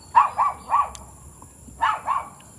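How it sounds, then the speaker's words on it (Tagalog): A dog barks in two bursts, three sharp barks then two more after a pause, fairly close and clear over a quiet background. "May aso din. O, ang ingay."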